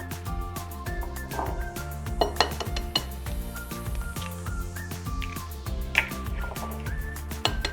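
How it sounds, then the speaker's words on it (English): A spoon stirs sugar into cornbread batter in a bowl, giving repeated light clinks and taps against the dish over a soft, steady musical background. "we're gonna stir that together really well"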